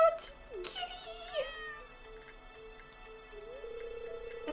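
A stray cat in the farming game Stardew Valley meows near the farm entrance, a couple of short rising-falling calls standing out over quiet background game music.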